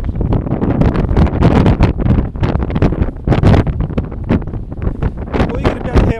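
Strong wind gusting at a cave entrance near Llangattock, Crickhowell, roaring and buffeting the microphone in loud, continuous, irregular bursts.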